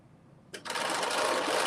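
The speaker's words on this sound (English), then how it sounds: "I'm just putting in the basting stitch." A sewing machine runs a basting stitch down the front of a skirt, joining the lining to the McCall's 8142 skirt. After a quiet half second it starts abruptly into a loud, steady, close whir.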